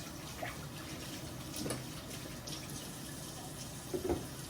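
Tap water runs steadily into a kitchen sink while hands are washed, a soft continuous splashing with a few brief louder splashes, quiet and without talk.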